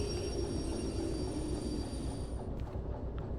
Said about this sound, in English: Let's start engaging the brakes.